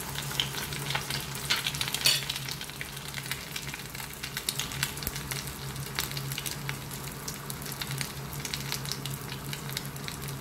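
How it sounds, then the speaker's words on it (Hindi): Chicken and vegetable spring rolls fry in hot oil with a dense, even crackling sizzle that holds steady and close throughout. "ऑयल गर्म हो गया है, अब हम इन्हें फ्राई करेंगे।"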